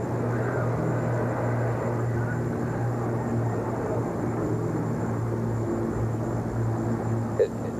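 Two P-51 Mustang propeller fighter planes fly over, heard as a continuous, fairly loud droning hum that holds steady throughout.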